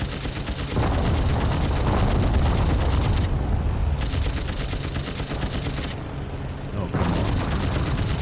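Machine gun fire from a biplane in the flight combat game Wings Remastered, a continuous loud rattle of gunfire over engine drone that briefly drops out twice, with someone speaking over it.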